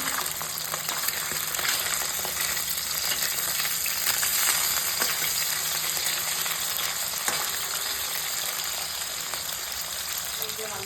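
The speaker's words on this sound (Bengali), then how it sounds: "হ্যাঁ মাছ ভাজা" Fish frying in a pan in a home kitchen, a steady close sizzle with faint scraping and stirring running throughout.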